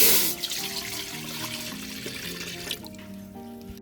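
Water gushes into a pot at first, then continues as a lighter trickle and splash under a faint tonal background hum.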